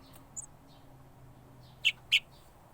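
Two short, sharp bird chirps ring out close together near the end, after a faint high chirp early on, over a quiet background of low hum; birds settling in a tree for the night.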